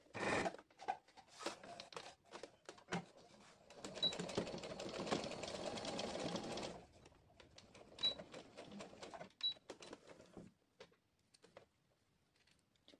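Domestic sewing machine running in bursts while stitching a seam on a dress, with a longer steady run in the middle and shorter starts and stops around it, close and fairly quiet.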